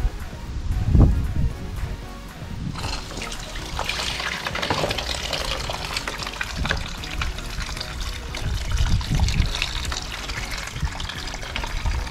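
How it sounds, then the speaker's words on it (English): Water trickles and splashes steadily as distilled water drains from the cooling system drain bolt of a KTM300 motorcycle, a continuous close pouring wash with a few louder splashes and some rustling. "now I'm going to drain out the distilled water, and hopefully whatever leftover coolant will come out with it"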